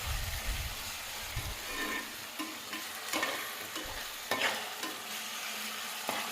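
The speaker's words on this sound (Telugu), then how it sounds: "అల్లం వెల్లుల్లి పేస్ట్ అనేది పచ్చివాసన పోయేంత వరకు మాత్రమే ఫ్రై చేసుకోవాలండి" Ginger-garlic paste fries in a pan, a soft continuous sizzle with intermittent scraping and stirring knocks, fairly quiet and close, with no one talking.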